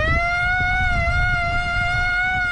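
Siren mounted on a bison feeder truck signalling feed time to a big bison herd; a steady wailing tone with rich harmonics holds throughout over low rumbling engine and wind noise.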